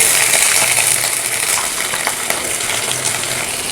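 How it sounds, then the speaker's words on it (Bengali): Washed eggplant pieces hit hot oil in a wok and fry with a loud, close, continuous sizzle and crackle, broken by occasional pops and spatters. "কড়াইতে তেল দিয়ে দিয়েছি আর তেলটা একেবারে গরম হয়ে গেছে এবার আমরা দিয়ে দেবো একে একে ধুয়ে রাখা বেগুনগুলো"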